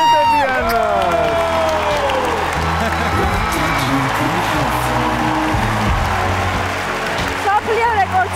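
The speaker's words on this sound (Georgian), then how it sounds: "კიდევ ერთხელ ყველაზე მაგარი აპლოდისმენტები ანა." A talent show audience applauding and cheering for a young girl named Ana after a record-setting performance, a dense sustained roar of clapping and whoops under an announcer's voice.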